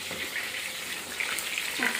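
Whole fish frying in hot oil, a steady soft sizzle that holds level throughout, with a brief louder crackle near the end.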